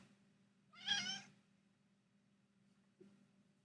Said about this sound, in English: Sometimes we talk back and forth with meows.